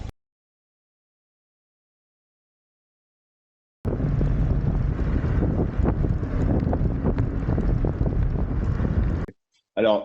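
Fast ride on an electric scooter on a public road, with loud, steady wind buffeting the microphone for about five seconds after a silent start, then a brief burst at the end.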